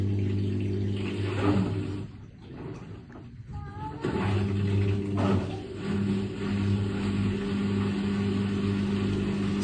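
A washing machine motor spins up in a home repair setting, a steady mid-pitched mechanical hum with tonal whine that dips briefly, then resumes at a constant level.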